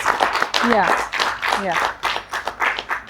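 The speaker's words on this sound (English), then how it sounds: "let's clap again" An audience claps along with scattered voices and a few cheers during a talk about Cameroon's crisis, with bursts of clapping rising and falling in uneven waves.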